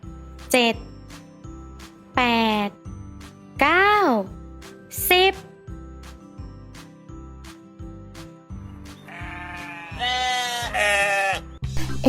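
Sheep bleat loudly and close in several separate wavering calls, spaced out over a bouncy rhythmic music track, ending with a longer, higher quavering bleat.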